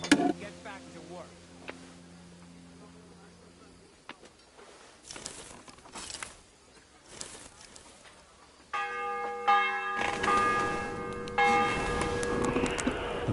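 A church bell rings in the video game Kingdom Come Deliverance 2, its sustained tones fading in and out across the scene and sounding again later, mixed with game sounds and muffled talk.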